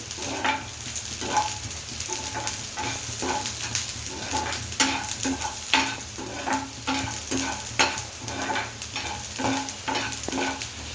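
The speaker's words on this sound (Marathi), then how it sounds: "आणि ग्रीन चिली परतून घ्यायचं थोडं हाय फ्लेमवरती" Green chillies sizzle in oil on a high flame while a spatula stirs them in a steady, repeated scraping rhythm, close and continuous for about eleven seconds with no talking.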